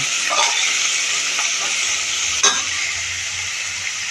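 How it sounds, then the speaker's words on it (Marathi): Two finely chopped onions frying in a pan for a cluster bean and potato dish, giving a steady bright sizzle close by, with occasional soft stirring scrapes and one sharper clack. "बारीक चिरलेला कांदा, 2 कांदे बारीक चिरून घेतलेले आहेत, ते घातले. आपण छानपैकी परतून घेऊया."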